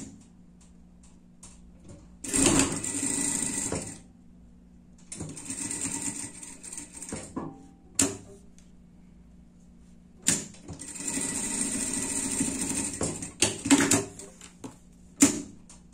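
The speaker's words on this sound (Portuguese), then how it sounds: "E fechar aqui com costura de segurança" A sewing machine stitches a safety seam on cow-patterned pet clothing in several loud bursts of rapid whirring, separated by quiet pauses and short ticking clicks.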